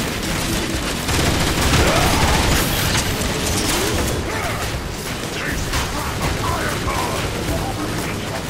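Weapon fire from Transformers: War for Cybertron while defending Iacon, a dense, continuous clatter of gunshots and mechanical bursts that stays loud throughout, with a few brief voice-like bits mixed in.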